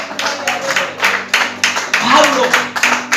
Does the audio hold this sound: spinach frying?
no